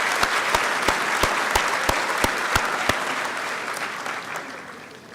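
An audience at a high school graduation ceremony applauds in a dense, steady wash of clapping, with a few sharper claps standing out, fading slightly toward the end.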